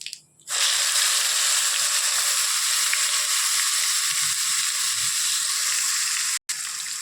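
Onion-garlic gravy hits hot oil already seasoned with cumin, mustard seeds and asafoetida for Punjabi-style chole, bursting into a loud, steady sizzle after a brief quiet start, with faint stirring scrapes underneath.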